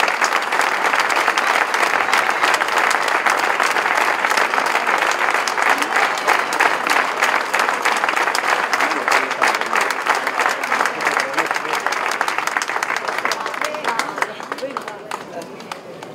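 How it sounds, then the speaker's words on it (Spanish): Loud, sustained applause from a crowd at a village fiesta in Cintruénigo, dense and close, tapering off near the end. "Un fuerte aplauso para ellos."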